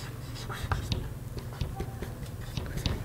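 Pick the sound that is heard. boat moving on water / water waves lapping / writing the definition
writing the definition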